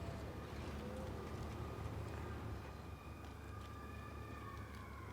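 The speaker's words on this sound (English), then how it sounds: "sirens are going on" Faint emergency sirens wail in the distance in the game Snowrunner, their rising and falling tones drifting over a low, rumbling background.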